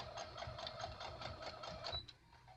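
An old hand-crank sewing machine stitches fabric in a steady, rapid rhythmic clatter, close and fairly quiet, stopping abruptly near the end.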